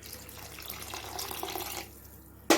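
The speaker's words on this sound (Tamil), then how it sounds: "இன்னும் கொஞ்சம் நம்ம தண்ணி ஊற்றிக்கலாம்" Water poured into a kurma as it cooks, a soft steady trickle lasting a couple of seconds before tapering off, ending with a short sharp clatter.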